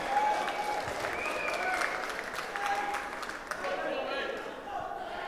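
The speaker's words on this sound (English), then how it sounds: "Big round of applause for the Grand Final right now." A big crowd applauds and cheers at the EGL London 2011 Call of Duty Black Ops Grand Final, dense roaring clapping filling the hall while an amplified announcer voice rings out over it.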